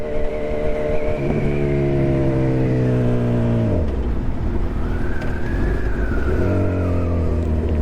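A motorcycle engine revs loud and close during a wheelie, holding steady throttle, dropping sharply partway through, then climbing again in a rising whine with tire and road noise.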